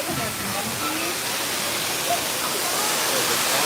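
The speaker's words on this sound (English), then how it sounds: "Over here to the waterfall, Jameson." A waterfall at EPCOT rushes as a steady, loud, broadband wash of falling water that fills the whole stretch without a break, with faint voices of people nearby underneath.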